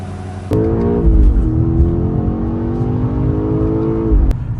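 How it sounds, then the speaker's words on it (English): A Lamborghini engine idling, then a steady loud drone as the car is pulled out of a workshop, with a sharp click at the start and the end. "Fabian is currently pulling out the Lamborghini so I can get out of the shop."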